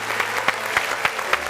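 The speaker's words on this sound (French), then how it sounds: "Quand je me lève pour t'applaudir" Applause from a studio audience on a French talk show, a steady wash of many hands clapping with a few sharper peaks standing out, fairly close and continuous.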